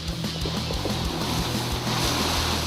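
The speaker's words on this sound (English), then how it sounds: "The water's super strong. It's like squishing out like that and squishing out at the top." Pumps force water through a line into a plastic-lined pool, a loud, close, churning gush with rhythmic low thumping pulses and a strong spraying hiss throughout, no speech.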